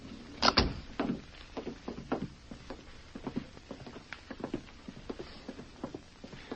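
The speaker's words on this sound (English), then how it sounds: "Close that door behind you, Duke" A door closes as a sound effect in an old-time radio Western drama, a sharp close thump near the start followed by lighter scuffing and tapping sounds, like footsteps, with no voices.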